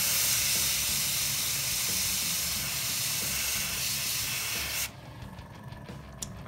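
An airbrush sprays paint in a steady, loud hiss for dust weathering on miniature bases, then cuts off abruptly, leaving faint clicks and quiet room noise.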